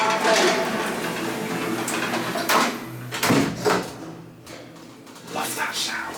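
Shopping centre lift doors sliding shut, a series of soft mechanical thuds and rumbles with a hum beneath, heard close inside the car with a synthesized voice announcing.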